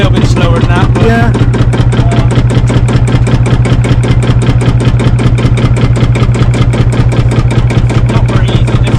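A vintage British engine ticks over at idle with a loud, close, steady pulsing beat and a deep low rumble. The rhythm stays even throughout and nothing else interrupts it.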